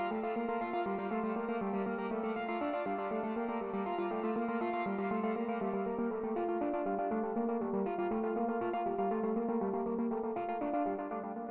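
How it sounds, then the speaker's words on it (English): A synth melody drenched in heavy delay repeats steadily, echoing notes stacking into a dense, sustained wash with a constant level throughout. "There's so much delay on this."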